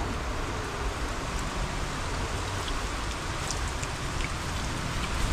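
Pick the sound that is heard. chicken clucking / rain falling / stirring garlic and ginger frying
rain falling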